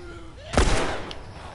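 A single sharp gunshot rings out in The Last of Us video game, a loud burst with a short decaying tail, preceded by a brief voice.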